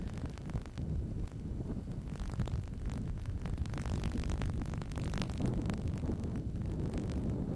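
Strong wind buffeting outdoors beside a 3/4 mile heritage railway track near a bridge under repair, a steady low roar with gusty rumbling that persists loudly throughout without any talk.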